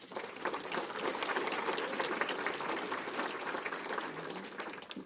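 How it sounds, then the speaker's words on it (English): An audience at a county civic event claps in a steady round of applause for newly introduced board members, a dense, even wash of clapping heard at a distance. "Let's give them another round of applause."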